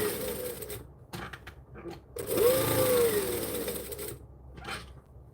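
A sewing machine runs in quick mechanical bursts while stitching custom orders, its motor whirring and needle clattering close by, with short stops and restarts between runs.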